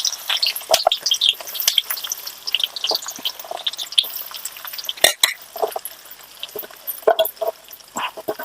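Crackling and popping of small tempering seeds spluttering in hot oil, irregular and busy, with occasional sharper snaps.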